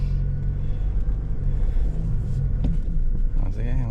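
Motor tricycles and cars pass on a road in Alaminos with a loud, continuous low rumble of engines and tyres and a brief rev near the end, while a voice talks over it.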